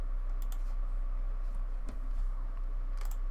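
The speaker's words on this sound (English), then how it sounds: "Now I have to check if my keyboard shortcut works." Computer keyboard shortcut keys are pressed during work in Blender 3D software, producing a few sparse, faint plastic clicks over a steady low hum, with no talking.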